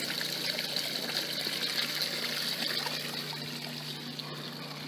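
Water and slurry discharge from a gold-mining spiral classifier into tailings, a steady trickling, splashing flow with a constant mechanical hum beneath, moderately faint and without speech.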